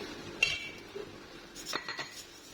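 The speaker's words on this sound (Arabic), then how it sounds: "وهحط بقى كميه الرز بتاعتي" Basmati rice poured into a cooking pot for a one-pot meal, with a sharp clink near the start and then a soft, grainy pattering and rustle close by, alone and without talk.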